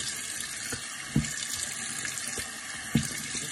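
Steady water streams from a sink faucet while a sea moss face mask is rinsed off, with a couple of soft splashes over the continuous running flow.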